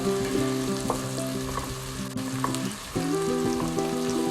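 Meat browns in a pot for goshth pilau, a loud, steady close sizzle and crackle with stirring, while a tonal musical drone continues underneath.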